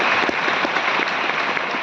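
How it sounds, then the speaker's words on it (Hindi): Steady applause rises from an audience at a government ceremony in Vigyan Bhawan, New Delhi, honouring Master Aditya, a dense, even roar of many hands clapping with no break. "एक बार पुनः जोरदार तालियों से मास्टर आदित्य से"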